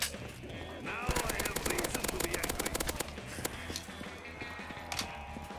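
Sustained automatic gunfire from a full magazine being emptied in Black Ops 3 zombies, a rapid unbroken stream of close, loud shots running for several seconds.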